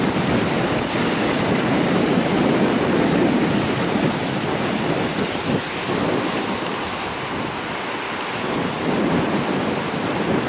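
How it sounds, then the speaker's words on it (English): Sea waves crash against rock and surge into a sea cave on the Ratnagiri coast, a loud, steady roar of surf with continuous broadband wash and no voices. "you can see the waves dashing against the rock and entering inside the cave"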